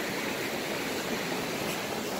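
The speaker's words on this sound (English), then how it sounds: "let's see the waterfall here" Waterfall in a wet forest, a steady broadband roar of falling water, continuous and even without pauses, fairly distant and moderately quiet, with no voices.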